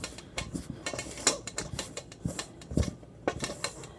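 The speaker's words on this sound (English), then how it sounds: "I'm using a wooden spoon here. Just stir it until it gets a little thick." Wooden spoon stirring pizza dough in a bowl, giving a run of irregular soft knocks and scrapes against the bowl, close up and moderately loud, with no talking.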